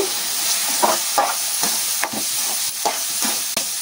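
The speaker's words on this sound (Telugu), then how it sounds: "కారం కూడా అంతా కలిసేటట్టు కలుపుకోవాలి." Chili powder is stirred into a ridge gourd and black-eyed pea curry, making rhythmic spoon scrapes and soft wet stirring strokes, about a dozen in quick succession over a gentle sizzle, close and clear.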